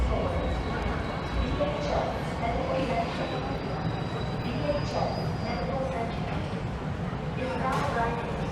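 A Seoul Metro Line 9 train riding underground, a steady loud rumble of wheels and carriage noise with faint squeals and passing clunks, people talking intermittently over it.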